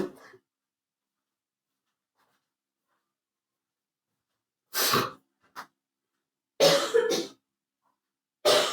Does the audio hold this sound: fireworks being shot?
no